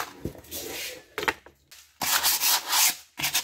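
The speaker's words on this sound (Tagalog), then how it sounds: "Gamit naman tayo ng sandpaper. 100. Grit 100. Lihain natin to." A rusty brake shoe from a 1990s Honda is rubbed with 100-grit sandpaper in short, harsh, scratchy strokes broken by brief pauses, with a long dense stretch of sanding near the end.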